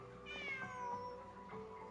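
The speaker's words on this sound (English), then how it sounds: "Just a cat." A cat meows in the video game Genshin Impact, a few drawn-out, rising-and-falling cries close up over a steady soft background tone, with no talking.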